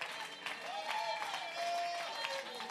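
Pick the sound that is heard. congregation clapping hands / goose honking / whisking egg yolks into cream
congregation clapping hands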